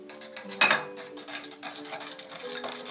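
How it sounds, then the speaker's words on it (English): Spoon scraping the bottom of a stoneware bowl while mixing garlic butter, with one sharp clink followed by repeated close, gritty scrapes and light knocks. "you can hear me scraping on the bottom of the bowl."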